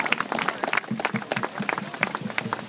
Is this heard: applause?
yes